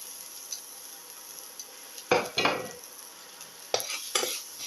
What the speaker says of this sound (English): Thoroughly mix in the salt.